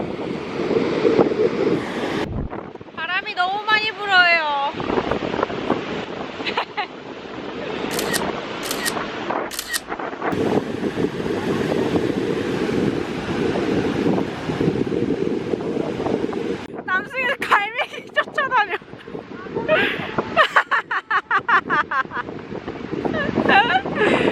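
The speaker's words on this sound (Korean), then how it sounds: "바람 되게 많이 부는데 오늘" Strong gusting wind buffets the microphone at Bondi Beach in Sydney, with surf rolling and crashing behind it. People talk on and off over the loud, continuous roar.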